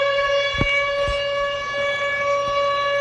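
Emergency alert warning sirens sound in an urban downtown setting, a steady sustained wail with layered harmonic tones held loud throughout, with a few low thumps underneath.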